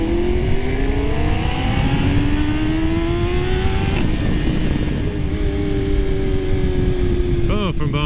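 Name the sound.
engine revving through a loud aftermarket exhaust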